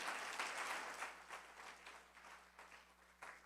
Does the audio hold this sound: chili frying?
no